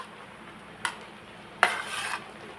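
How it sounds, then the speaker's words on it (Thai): Beef is stir-fried with pickled bamboo shoots and holy basil in a pan. A utensil gives two sharp metallic clanks against the pan, and the second is followed by a short burst of scraping, stirring and soft sizzling, close up. "ผัดให้น้ำมันแห้ง"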